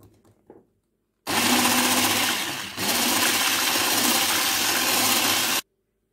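An electric mixer whisks flour into winter cake batter, starting abruptly with a loud steady whir, dipping briefly, then running evenly for several seconds before cutting off.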